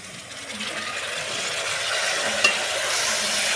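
Boiled drumstick pieces being gently stirred into a sizzling tempering in a pan, a steady hiss of frying with soft scraping of the spoon and one brief clink, alone without talk.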